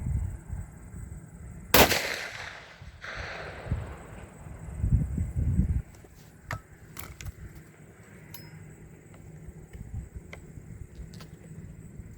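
A CVA single-shot rifle in .450 Bushmaster fires Hornady Custom ammunition at a 100-yard range: one sharp, loud shot early on with a ringing decay, then quieter outdoor background and faint clicks.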